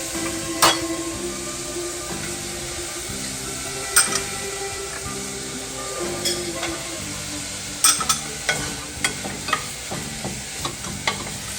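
Chopped carrots and celery sizzle in a pan for Italian seafood pasta, with a steady frying hiss close by. Sharp utensil taps and scrapes against the pan punctuate it irregularly, growing more frequent toward the end.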